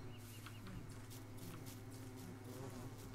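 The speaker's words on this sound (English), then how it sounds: "Just don't hit those bees" Bees buzzing in the survival video game Don't Starve, a faint, continuous droning hum with soft fluttering wing sounds, low in level and steady throughout.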